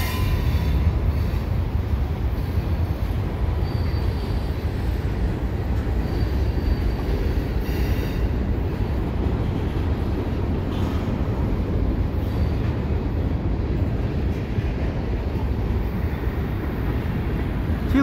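A CN freight train passes close by, led by its locomotives, a loud, continuous low rumble and roar of rolling rail cars that holds steady for the whole stretch.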